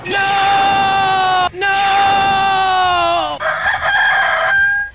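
A loud, drawn-out rooster crow with a synthetic, game-like tone from a giant flaming rooster in Mega Man X8, repeated twice, then a brief squawking cluck at the end.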